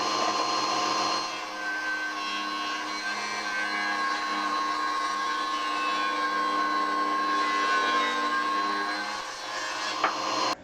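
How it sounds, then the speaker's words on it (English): Power saw cutting through a 2x8 wood board for a mobile power tool cart. A loud, steady whining cut lasts about nine seconds, then winds down with a brief knock at the end. "I'm going to cut a 2x8½ to use for some additional supports for the top"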